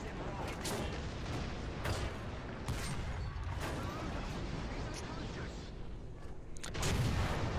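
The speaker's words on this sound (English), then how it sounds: "So we're gonna go around this corner and blast his ass." Tank guns in War Thunder boom and crack repeatedly, sharp blasts every second or so over a rumbling battlefield din, with voices talking over the action.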